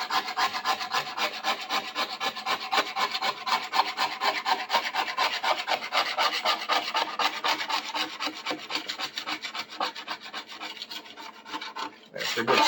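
Metal scraping on an old rip saw blade during restoration, a continuous rapid rasping of quick back-and-forth strokes, close and loud, running for over ten seconds before a short break.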